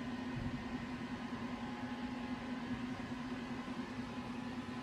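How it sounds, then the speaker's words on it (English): A Supermicro SuperChassis 72-bay JBOD server loaded with 16TB all-flash SSDs gives off a steady fan whir, a constant hum with an even broadband hiss and no breaks. "ambient noise of the SuperChassis"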